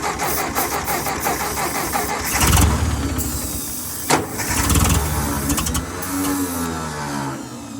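A Ford 600 tractor engine cranks on its starter, a loud, continuous churning that swells in two heavier surges, as if nearly catching, before settling back to steady grinding.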